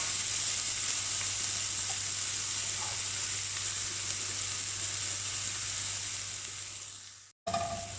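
Onions and garlic sizzle steadily in a hot pan for several seconds, a close, continuous frying hiss that cuts off abruptly near the end before a brief clatter.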